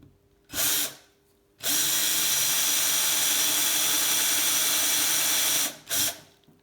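Power drill boring holes into a part for a gravel touring bike-packing build: one short burst, then a long steady loud whine lasting about four seconds, and another brief burst at the end, with no talking.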